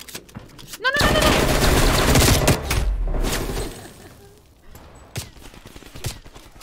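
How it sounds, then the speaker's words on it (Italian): Gunfire in Call of Duty: Black Ops Cold War erupts as a loud, sustained burst of rapid automatic shots, close and dense, then trails off into scattered single shots with a voice talking in the background. "Che mi spara?"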